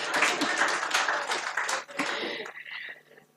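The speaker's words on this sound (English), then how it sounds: "Then why aren't you clapping?" Conference audience clapping in a hall, a dense burst of applause that starts loud and thins out over a few seconds, with a few scattered claps trailing off at the end.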